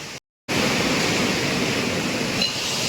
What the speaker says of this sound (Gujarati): આ મશીન હવા એટલે કે એર કોમ્પ્રેસર અને પાણી અને ઇલેક્ટ્રિકથી ચાલે છે